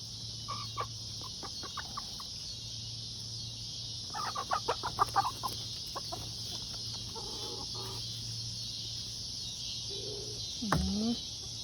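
Turkey toms squabbling and calling, with scattered clucks and short gobbling bursts, a loud flurry in the middle and a brief squawk near the end, over steady insect buzzing outdoors.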